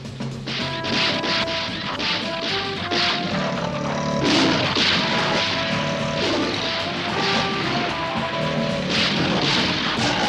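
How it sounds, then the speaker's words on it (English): Gunfire in a Jonny Quest cartoon scene as the group shoots to drive off a pack of big crocodiles, with repeated sharp cracks and crashes over a busy, dense cartoon score, loud and continuous throughout. "the firing is enough to chase them away"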